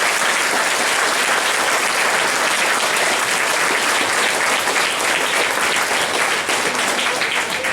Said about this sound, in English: can we finish by giving my helpers a round of applause again?